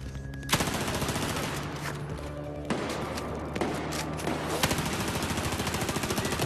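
Battlefield 4 gunfire during a jail break mission, sharp rapid bursts of automatic fire layered with separate loud shots and thuds, continuous and close with a few heavier impacts standing out.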